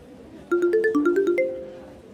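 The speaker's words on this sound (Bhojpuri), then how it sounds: "माँ का फोन है।" A mobile phone ringtone for an incoming call, a quick run of bright electronic chime notes rising and falling, then one sustained tone fading out, heard close and alone.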